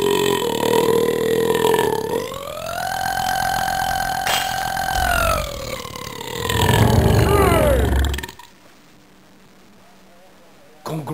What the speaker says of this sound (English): Longest burp.